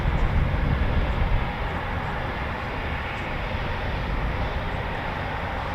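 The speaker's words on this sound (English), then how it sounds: "we should have a flight of 4 taxiing out very shortly" Eurofighter Typhoon FGR4 jets taxiing at RAF Coningsby, a steady broadband engine roar and rumble, louder for the first second or so, then holding at an even, continuous level with no talk.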